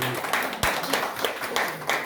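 A group of women at a self-help group pickle-making training clap together for the speaker, a scattered, moderately loud round of handclaps with some background chatter.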